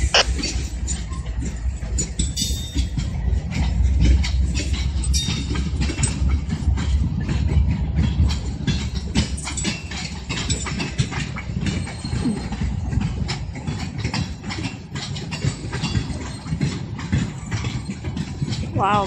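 A Norfolk Southern freight train rolls past an old Erie Railroad and Erie Lackawanna yard in Elmira, New York, giving a loud, steady rumble with clickety-clack from the wheels that lasts the whole stretch.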